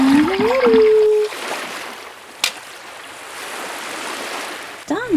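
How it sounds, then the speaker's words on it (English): A cartoon toy boat driven by Donald Duck carries a rising and falling whistle-like tone, a swishing water-and-motor wash and a sharp knock, then another bending tone at the end. "Donald is driving a boat."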